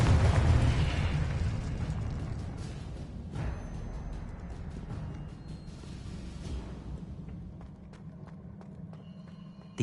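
Confringo spell explosion in Hogwarts Legacy, a strong booming burst at the start that rolls off into a long, fading rumble with scattered smaller pops and clatter.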